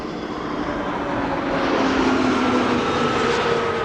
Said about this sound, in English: it looks like the A380 is coming this way